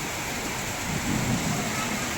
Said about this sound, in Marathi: याच्यासोबत पावसाने हजेरी लावली पाऊस चालू झाला